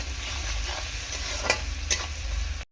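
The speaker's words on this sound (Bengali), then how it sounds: "দিয়ে আবারও ভালো করে নাড়াচাড়া করে নেব যাতে তলায় মশলাটা লেগে না যায়।" Chili and cumin powder frying in a pan for a tilapia curry, a continuous sizzle with two sharp scraping strokes of a spatula stirring the spice, close up and alone.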